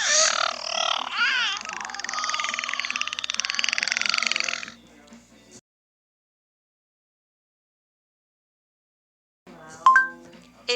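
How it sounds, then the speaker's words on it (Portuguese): A beluga whale call, played back by a smart assistant, comes as a burst of bright, rapidly warbling squeals and chirps lasting a few seconds, followed by silence and a brief voice. "A baleia beluga faz assim."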